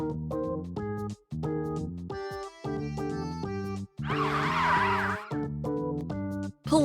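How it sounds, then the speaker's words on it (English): A fire truck siren gives a brief wavering wail in the middle, set among bright, stepped musical tones that start and stop in a regular rhythm, with no talking. "Fire truck."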